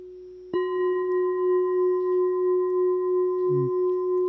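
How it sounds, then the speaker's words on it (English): A sustained synth tone in Ableton, sent through a cathedral reverb, starts abruptly and holds steady with a gently pulsing swell and a faint lower note briefly appearing near the end. "it is going through the cathedral reverb now"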